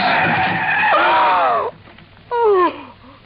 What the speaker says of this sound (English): I slammed on the brakes